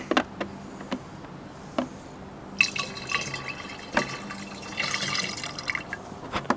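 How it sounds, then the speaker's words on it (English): Masonry sealer liquid being poured into a container in a garage or basement setting, with faint trickles, drips and a few clinks against the vessel, quiet and close. "And then pour that in there."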